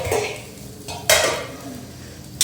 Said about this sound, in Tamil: கிண்டு விட்டுடலாம்.